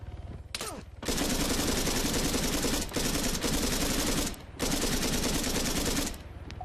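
Sustained automatic gunfire in Arma 3, long loud close bursts of rapid shots broken by brief pauses, without speech.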